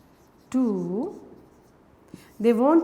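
Writing on a board during an English lecture, heard as a soft scraping stretch with a brief tap between bursts of a teacher's speech.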